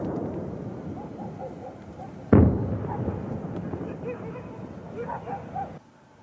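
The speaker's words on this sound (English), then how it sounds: "you see this explosion. So we tried our best to find out where exactly these rockets go up." A rocket explosion plays back as a sudden loud boom that follows a murky rumble, with a rolling tail afterwards and faint voices mixed in underneath.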